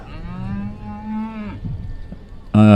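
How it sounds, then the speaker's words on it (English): Cattle moo at the Ekka show's Parade of Champions, a long low drawn-out moo followed by a shorter, much louder close bellow, heard with no talking over it. "What a great lineup of cattle."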